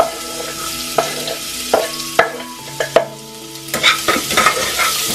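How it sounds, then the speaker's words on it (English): Chopped onion with cumin hisses in a hot pan while a spoon knocks and scrapes the pan in irregular strokes, the sizzle swelling louder in the final seconds. "I'm just gonna add some chopped onion"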